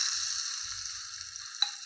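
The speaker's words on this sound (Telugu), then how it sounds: "జీలకర్ర ఎలా చిటపటలాడుతుందో చూసారా" Cumin seeds fry in hot oil in a pot, making a steady thin hiss with one sharp crackle near the end and no voices.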